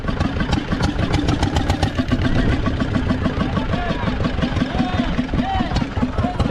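A fishing boat's engine runs steadily as the boat comes in toward the dock, a close, continuous throbbing idle with a rapid mechanical pulse and faint voices mixed underneath.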